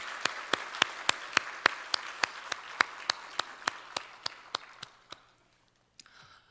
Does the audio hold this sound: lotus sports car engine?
no